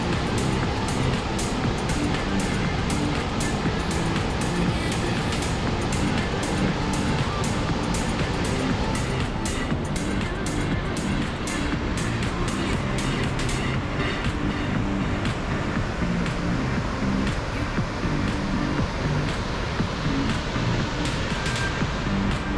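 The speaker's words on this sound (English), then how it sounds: "Spokane Falls is 500 feet wide and at a height of over 100 feet high" Spokane Falls, a waterfall 500 feet wide and over 100 feet high, roars as a steady, loud, unbroken rush of water without pause from start to finish.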